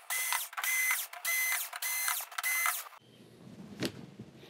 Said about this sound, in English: Let's get these screws out and this main board will be free.